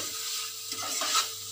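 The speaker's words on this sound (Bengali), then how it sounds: "আলুগুলো দিয়ে একটু হালকা করে নাড়বো" Potatoes being gently stirred into a mustard spice paste in a hot pan give a soft, quiet scraping with a faint sizzle underneath, lasting only a moment.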